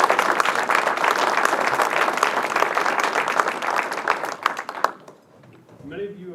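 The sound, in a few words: audience applause for female athletes at induction ceremony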